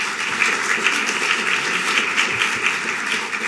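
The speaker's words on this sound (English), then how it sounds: "Please give these Platinum sponsors a round of applause." A crowd at a forum applauds steadily for sponsors, a dense wash of many hands clapping at once, sustained and moderately loud throughout.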